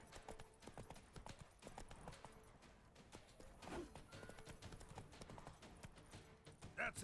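Hooves of the horse Roach clip-clopping steadily in The Witcher 3 Blood and Wine, mixed with game ambience and occasional bumps, fairly close and continuous.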